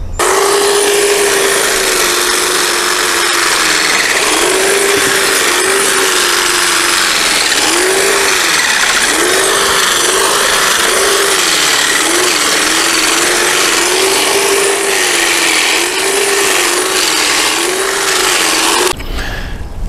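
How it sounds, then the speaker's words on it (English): A hedge trimmer cuts straw down to the ground in a no-till raised bed garden, a steady close buzzing drone with repeated rising and falling pitch sweeps as the blades work, running continuously until it cuts out at the end. "cutting it down with just a hedge trimmer there"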